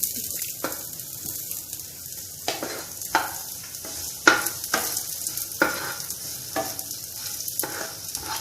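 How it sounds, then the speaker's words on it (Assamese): Dates and raisins fry in a pan for a halwa, a soft continuous sizzle broken by repeated scraping stirs at irregular intervals, close and moderately quiet. "এতিয়া অকণমান খেজুৰকেইটা খিচমিচকেইটা ভাজি দিওঁ"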